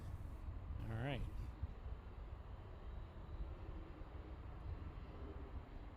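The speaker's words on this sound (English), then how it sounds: "Cessna 303, Alki departure approved, wind 290 at 10, runway 32 left at Alpha 8, clear for takeoff." A Cessna taking off from runway 32 left at Boeing Field, heard as a steady, distant engine roar under constant background rumble, with a brief whistling chirp near the start.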